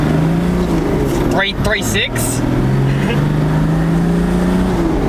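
A 1HDT LandCruiser with a 3-inch straight-piped exhaust, driven on a bitumen main street with the windows down, gives a loud, steady diesel drone close by while someone talks over it.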